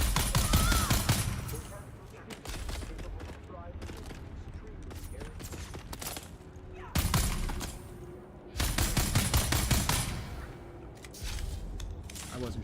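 Bursts of gunfire crackle throughout a Dune: Awakening firefight, with dense rattling volleys and sharp impacts that rise and fall over several seconds while speech-like game audio mixes in.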